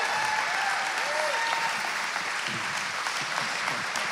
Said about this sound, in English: you keep clapping